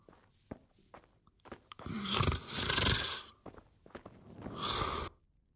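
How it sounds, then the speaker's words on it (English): A character snores in Kingdom Come: Deliverance, two long rasping breaths around two and five seconds, loud and close, with small thumps and movement between them. "just snoring"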